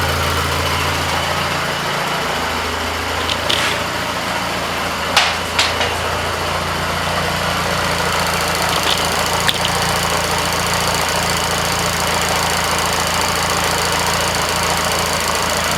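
An Austin Seven car engine idling with its gear train exposed, a steady loud mechanical clatter and knock close by, broken by a few sharp metallic taps and clicks partway through.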